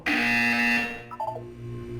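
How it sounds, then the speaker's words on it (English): A loud, steady electronic buzzer tone from the Portal 2 video game sounds for about a second, then cuts off into quieter game sounds and a low background hum. "When you hear the buzzer, look down at the floor."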